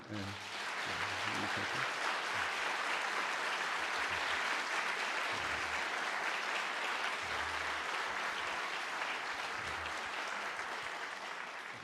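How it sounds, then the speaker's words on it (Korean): Church congregation applauding the senior pastor at a Korean pastoral installation service, a steady sustained wash of many hands clapping throughout, with low voices murmuring underneath. "우리 원로 목사님 오셨는데 박수로 한번 우리"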